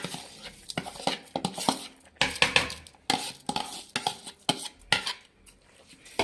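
Washed rice goes into a pan of fried spiced masala for menthya bath and gets stirred, with close, irregular clanks and scrapes of a metal spoon against the pan.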